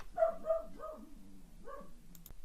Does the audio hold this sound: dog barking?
yes